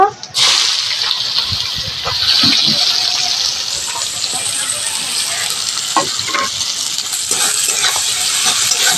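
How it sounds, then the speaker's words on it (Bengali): Chopped onion frying in hot mustard oil tempered with black cumin and a dried red chilli, the base for a spicy crab curry. A loud, steady, close sizzle runs throughout, with occasional utensil clinks and stirring knocks. "পেঁয়াজটা একটু ভেজে নেব।"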